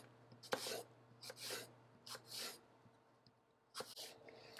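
A kitchen knife slices an apple around its core into pieces. Four or five short, crisp cuts come at irregular intervals, close but quiet, with no voices.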